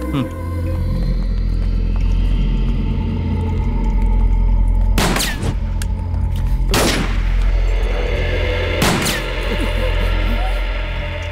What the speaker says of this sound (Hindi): गोली मत चलाओ